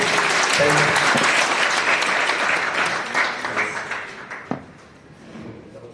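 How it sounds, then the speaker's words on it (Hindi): An audience claps at a traditional puppet show in Jaisalmer, dense applause that is loud at first, then thins and fades to scattered claps with one sharp knock near the end. "तो एक बार ताली बजाइए।"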